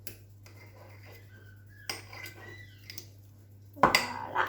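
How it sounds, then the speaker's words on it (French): Garlic crushed and crunched in a bowl while making pizza, heard as soft scraping and grinding with scattered clinks of utensil against the bowl and a louder clattering burst near the end, over a steady low hum. "On doit entendre croquer un petit peu l'ail pour dire que ça prenne bien le goût, Jaya"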